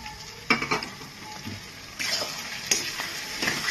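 Ground ginger, garlic and green chili masala with small tomatoes frying in a pan for chicken gizzard and liver kosha, a soft sizzle broken by several clattering stirs and scrapes against the pan, close and moderately quiet, no speech.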